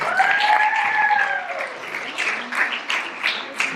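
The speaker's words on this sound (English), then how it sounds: "Give it up for his college, guys." Audience applause at a stand-up comedy show, scattered claps and cheering from the crowd with a tonal whistle or whoop early on, thinning into sparse individual claps.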